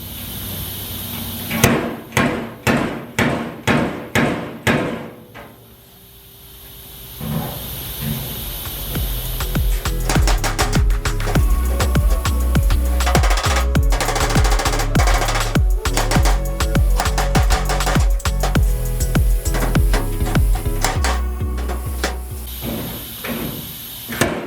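Stud welder tacking studs onto dirty metal on a vintage kerosene pump, a series of sharp, evenly spaced snapping clicks followed by a longer stretch of crackling, hissing welding bursts with scattered pops.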